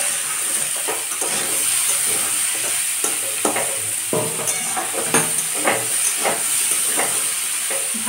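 Two onions frying in a pan, a steady hissing sizzle close up with repeated stirring scrapes and taps of a spoon at irregular intervals.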